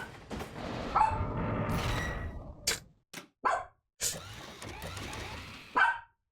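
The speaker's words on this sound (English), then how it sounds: "Sorry about my dog. He sees somebody out there." A dog barks at someone outside, giving a series of short, sharp barks and yips in irregular bursts, fairly close but moderately quiet, with a longer noisy stretch at the start.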